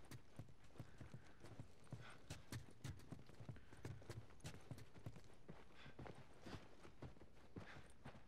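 Horse hooves clip-clop steadily in The Last of Us Remastered, a quiet, even trotting rhythm of many hoofbeats throughout, with no talk over them.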